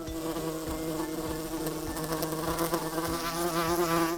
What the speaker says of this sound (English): Hornet.